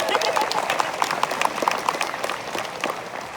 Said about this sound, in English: A round of applause for her, ladies and gentlemen.